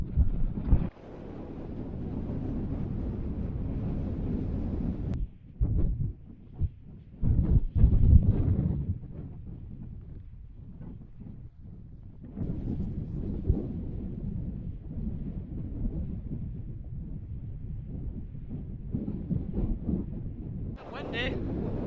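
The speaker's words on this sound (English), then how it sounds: "Windy, very windy." Strong wind buffets the microphone on a mountain summit in the Glen Carron area, a loud, close rumbling roar in uneven gusts with brief lulls.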